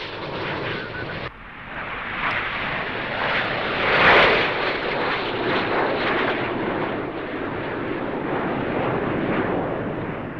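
Red Arrows jet trainers roar past in formation, a loud, sustained broadband jet rush that swells around the midpoint and stays heavy throughout, with faint voices beneath.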